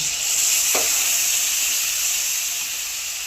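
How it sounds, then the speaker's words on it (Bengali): Simmering white potato curry with coconut milk hisses and sizzles steadily in the pot, a soft pour near the start, with no voices. "এবারে এখানে 1 কাপ দুধ নিয়েছি, দুধটা দিয়ে দেব"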